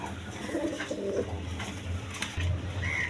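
Healthy domestic pigeons at a pigeon sale, including a red female, coo softly in low repeated murmurs amid a close, busy background.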